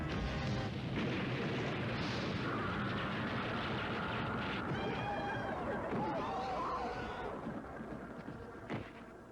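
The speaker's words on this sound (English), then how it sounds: "She stunned it with flash grenades." Loud, dense rumbling bursts of flash grenades stunning a giant insect in the animated film Nausicaä of the Valley of the Wind, a continuous booming roar with crackling layers that fades slightly near the end, no talking.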